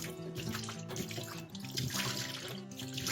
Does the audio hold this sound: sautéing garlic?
no